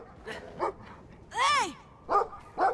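A dog barks several times in Brothers: A Tale of Two Sons, short yelping calls with one longer howling bark in the middle, moderately close among game sounds.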